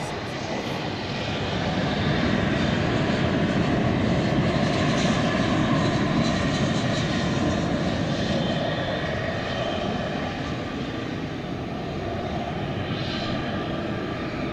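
An American Airlines flight from Detroit arrives at DFW airport at night, a continuous jet engine roar heard from a moderate distance, swelling slightly and then holding steady without any talking.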